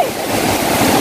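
Strong typhoon Odette wind roars in a steady, dense rush with a sound like surf. The roar stays loud and continuous all through the short stretch, and no voices are heard.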